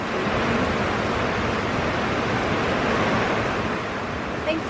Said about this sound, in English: Pretty dang windy.